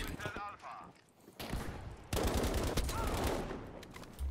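Bursts of rapid gunfire from an STG assault rifle in Battlefield V multiplayer crackle and rattle at moderate volume, with a brief quieter pause before a sustained volley of shots.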